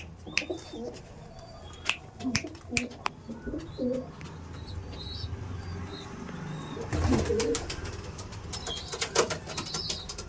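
Kalanka pigeons in a loft coo in soft, repeated low calls, joined by bursts of wing flapping and scattered chirps, close by with some background rustling.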